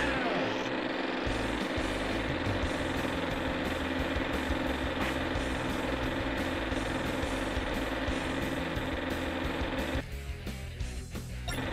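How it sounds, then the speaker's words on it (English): Motorbike engines drone continuously in a PS1 bike racing game, a steady buzzing whine that holds loud and unbroken for about ten seconds before dropping in level near the end. "I was hoping there might be something to turn the engine sounds down there."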